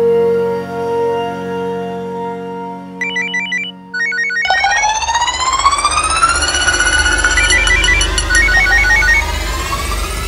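An electronic phone ringtone plays, a repeating melodic pattern that rises and loops, loud and close with no voices.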